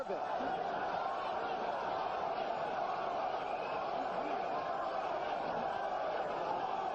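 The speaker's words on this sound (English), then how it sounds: "You can hear the crowd now started chanting" Boxing arena crowd at a Larry Holmes versus Trevor Berbick heavyweight fight, a steady distant roar of many voices with rhythmic chanting woven through it, continuous and unbroken.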